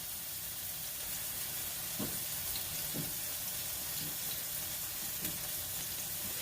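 Beef patties fry in olive oil in a big skillet, giving a steady, soft sizzling hiss with a few faint pops and clinks, fairly quiet and continuous.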